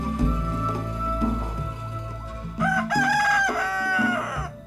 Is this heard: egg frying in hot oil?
no